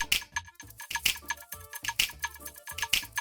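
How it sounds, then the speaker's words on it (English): A shaker in a slap house drum loop keeps up a busy hiss of quick rhythmic ticks, layered with sharp snaps on the beat and a low, bouncing bass underneath. "And a shaker."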